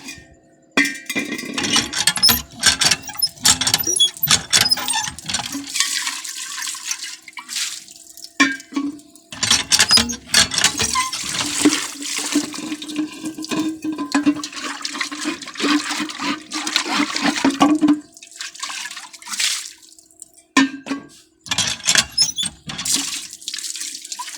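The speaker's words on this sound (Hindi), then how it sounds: "अभी जो है नलके को चलाते हैं।" Water from a hand-pump tap gushes and splashes in repeated bursts during outdoor laundry washing, with pauses between pumping strokes and dripping in the gaps.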